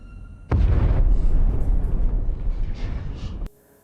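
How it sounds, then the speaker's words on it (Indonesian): A large blast in the 2023 film To Catch a Killer, set at an apartment building, erupts suddenly as a loud, deep boom and rumbles on for about three seconds before cutting off abruptly. "akibat ledakan barusan"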